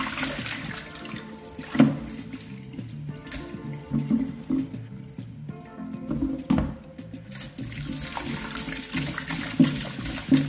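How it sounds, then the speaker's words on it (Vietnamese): Pig intestines being rinsed under a running kitchen tap, a steady stream of water splashing into a sink with occasional louder slaps and sloshes as the tripe is handled, no talking. "Mình sẽ rửa sạch các bạn."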